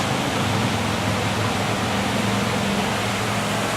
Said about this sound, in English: That's a man-made waterfall right there